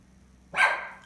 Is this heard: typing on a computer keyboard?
no